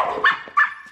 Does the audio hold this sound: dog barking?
yes